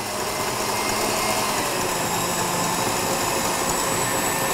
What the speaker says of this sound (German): Und die Schlagsahne schön steif schlagen